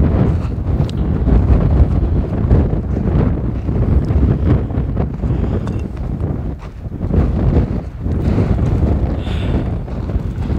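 Strong wind buffets the microphone on the summit of Litlihrutur, a volcano in Iceland, a loud continuous rumbling roar with gusty surges and no one speaking.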